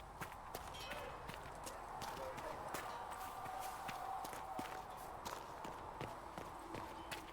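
Horse hooves clip-clop at a steady trotting rhythm in the video game Dragon Age Inquisition, a run of sharp, close taps over a continuous ambient bed, with a voice speaking briefly.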